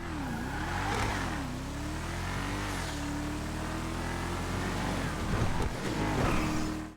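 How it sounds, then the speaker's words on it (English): An upgraded Paragon R sports car engine in GTA 5 Online revs and roars steadily, rising and falling in pitch, with a couple of louder surges near the end. "as you can hear, the car the sound makes is significantly better than before"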